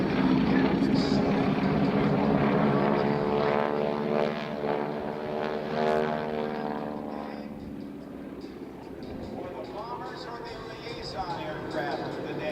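A North American Texan (SNJ) propeller airplane drones steadily overhead at the Dayton Air Show, its engine tone rising and wavering as it passes, loud at first then easing slightly, with a voice talking over it.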